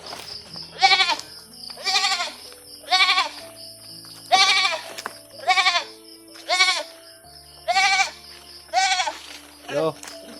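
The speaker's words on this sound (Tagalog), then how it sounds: "May mga kambing doon sa inyo." Goats bleating repeatedly, about nine loud wavering calls spaced a second or so apart, fairly close, with low background hum and a faint voice at times.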